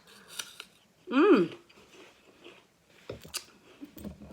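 A crisp, close crunch as teeth bite into a sweet, juicy Fuji apple, one loud burst followed by softer chewing sounds and small mouth noises.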